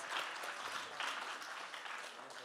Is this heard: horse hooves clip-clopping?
no